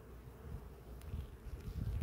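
Low, droning buzz of many honeybees in a hive, fairly faint and continuous, swelling slightly toward the end.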